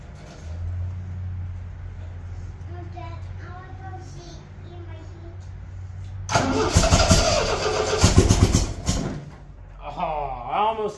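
A 1975 MGB engine cranks loudly and sputters as it tries to catch, a rough whirring burst that fades back to a low hum, with a person speaking nearby.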